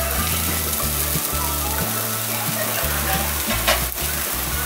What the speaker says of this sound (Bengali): এখন আমি ডালটার মধ্যে লঙ্কা কুচিটা দিয়ে দিলাম, চেরা লঙ্কাটা, আর কুচানো পেঁয়াজটা দিয়ে দিলাম।